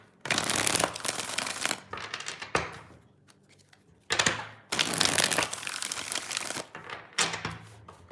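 Tarot cards being shuffled by hand in several bursts of riffling and crinkling, close and fairly loud, with short quiet gaps between the runs.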